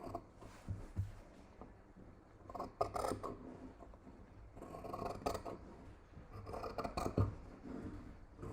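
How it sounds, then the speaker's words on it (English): Scissors trim close along a fabric seam allowance while sewing a vintage blouse sleeve, giving soft, uneven snips and rubbing crunches in short bursts at close range, with no talking. "now I'm going to trim this away."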